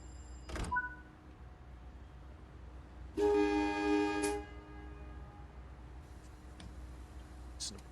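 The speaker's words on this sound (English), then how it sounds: "doors are closing" Train doors close in a train simulator game: a short warning chime sounds, then a sustained door-closing tone with a clunk at the end, over a low, steady cab rumble. Fainter clicks and hiss follow.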